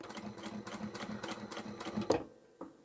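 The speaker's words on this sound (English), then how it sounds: "I'm going to sew down here." A sewing machine stitching cotton or upholstery fabric for a large boxy bag, a quick close rhythmic whir of the needle that stops abruptly, followed by a faint click.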